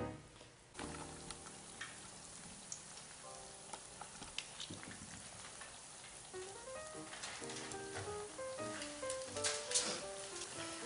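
Potato latke batter fries in hot oil, a faint, steady crackle and sizzle with scattered pops, close by and with no talking.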